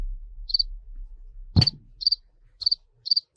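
Cricket chirping sound effect: short, evenly spaced high chirps about every half second against near silence, interrupted once by a single brief thump.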